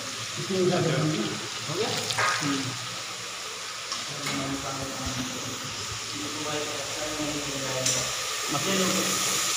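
Chicken fries with vegetables in a pan for a gravy-style curry, a steady hissing sizzle with occasional stirring, while a person talks over the cooking throughout.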